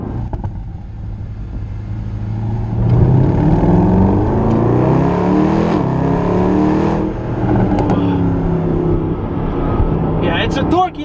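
Mercedes-AMG SLS engine pulls hard under acceleration, a loud, rising in-cabin roar that builds and holds before easing slightly, with people talking over it.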